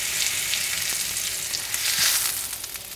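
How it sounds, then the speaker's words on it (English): Pork loin sears fat side down in hot oil, giving a loud, continuous crackling sizzle up close, with small pops scattered throughout. "let's start with going the fat side down first. And that's the sound you want to hear."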